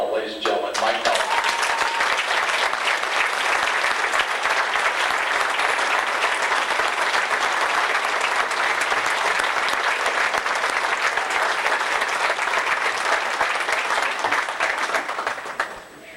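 A banquet audience applauds the 1992 Robert A. Mueller Memorial Award winner, Mike Null: loud, dense, steady clapping from a large crowd that holds for about fifteen seconds before tapering off at the end.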